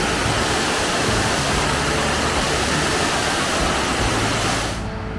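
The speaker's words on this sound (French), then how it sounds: "on va venir ces belles chutes d'eau qui sont vraiment super sympas" Loud, steady roar of a waterfall in the Rocky Mountains of Idaho or Montana, a dense broadband rush of falling water that holds constant, dropping slightly and muffling at the very end.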